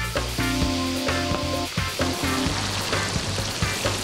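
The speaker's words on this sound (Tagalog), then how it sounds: "So habang piniprito ni Chef Chris yung lobster" Lobster, split, salted and coated in cornstarch, deep frying in hot oil: a steady, loud crackling sizzle with bursts of spattering and faint clinks of utensils, close by and without talk.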